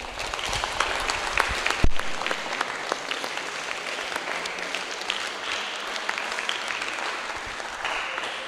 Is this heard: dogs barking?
no